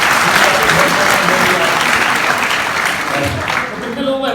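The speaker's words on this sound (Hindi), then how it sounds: "जोरदार तालियां हो जाए भाई।" Loud, dense applause from a large seminar audience in a hotel hall in Faridabad, rising as the crowd cheers and holding steady for several seconds before easing slightly near the end.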